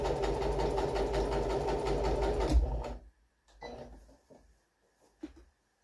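A sewing machine runs steadily for nearly three seconds stitching a double hem along the top of fabric, a fast close mechanical whir that stops abruptly, followed by a few faint handling clicks.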